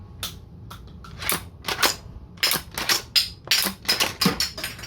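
A Nerf shotgun revolver blaster loaded with TPU shells, firing and being worked: a series of sharp plastic snaps and clacks in irregular clusters, close and clear with no talking.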